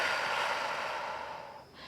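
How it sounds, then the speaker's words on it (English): A single long, deep inhalation through the mouth or nose during a relaxed core and breathing exercise, a steady airy rush lasting nearly two seconds and fading slightly at the end, close and alone. "take a big breath in"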